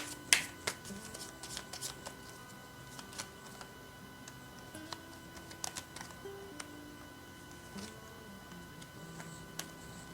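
Tarot cards are shuffled and laid out with soft papery riffles and scattered light taps and clicks, close and quiet, over a faint steady hum.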